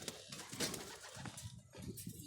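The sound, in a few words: pigeons cooing on a rooftop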